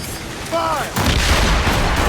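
A ship's cannons in the Assassin's Creed Rogue video game open fire in a naval fight, landing as heavy booming blasts that stay loud and rumbling through the second half, with a short whistling tone just before.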